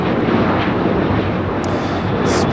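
Broadband, steady roar of a Spirit Airlines A320-family jet, arriving from Atlanta, landing at LAX. The sound is loud and continuous throughout with no talk over it.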